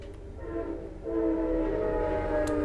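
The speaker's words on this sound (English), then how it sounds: "Sorry, train." A train passes at a distance, a sustained low rumble that swells partway through, with a steady tonal hum and no voices.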